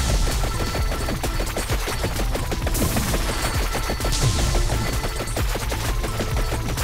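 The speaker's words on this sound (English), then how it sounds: "Silver knives! And now we constantly fire them!" Silver knives fire nonstop in the game Vampire Survivors, a dense, relentless rattle of rapid clicks and impacts layered over busy game effects and music, steady and loud throughout with no pauses.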